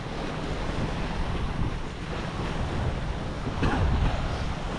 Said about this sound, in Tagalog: Ang ganda talaga ng dagat guys.